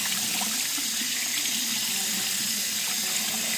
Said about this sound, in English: Okay, so I'm turning on the cold water.